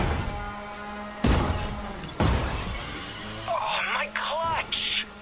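Points crates smashing while driving in The Crew 2: two sharp crashing impacts over a steady engine drone, followed by chirpy scoring sounds.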